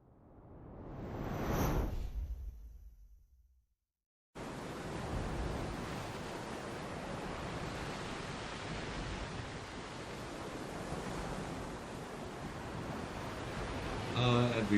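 Ocean waves at Stony Point on the coast at Betty's Bay: a single surge swells and fades, then after a brief silence a steady, broad wash of surf runs on continuously at moderate level.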